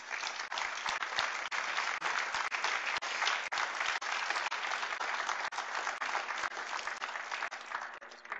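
A large audience applauds steadily to welcome Rev. John Dear onto the stage for an evening lecture on Dr. King and creative nonviolence, with sustained dense clapping that carries on alone throughout.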